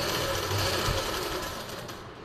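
Close, continuous sewing machine whir as a silk suit is stitched, a steady loud drone that fades slightly toward the end.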